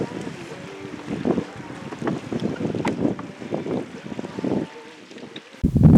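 A 5-horsepower outboard motor on a 12-foot boat drones steadily over heavy wind buffeting the microphone, with splashing water and a sharp gust burst near the end.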